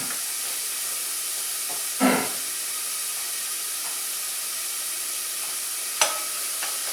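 Onion softens in a hot pan with a steady close sizzle and hiss, broken by two brief louder scrapes or stirs, with no voices over it.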